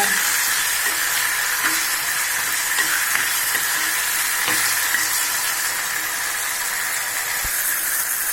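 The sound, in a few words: sautéing plantain and curry leaves in a pan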